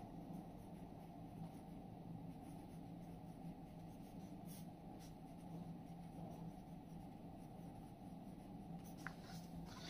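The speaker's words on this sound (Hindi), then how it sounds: "यहाँ लिखेंगे हम क्रियाकलाप" Steady scratching of chalk or marker writing on a board during a maths lesson on data, continuous and close with a faint room hiss and no talk.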